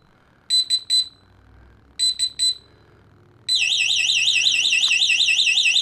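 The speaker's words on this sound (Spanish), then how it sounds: "Y ahí está activada la alarma. Eh, significa que está detectando el gas." An electronic gas detector alarm, triggered by detected gas, beeps in two bursts of three shrill tones, then switches to a continuous loud warbling siren.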